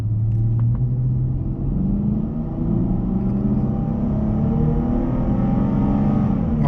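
A 2013 Chrysler 300 Touring pulls hard from inside the cabin, its engine rumble building steadily and loudly with rising pitch over several seconds, no talking.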